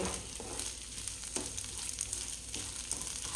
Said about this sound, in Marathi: मध्यम आचेवरती आता हे तांदूळ जवळपास आपल्याला रंग बदलेपर्यंत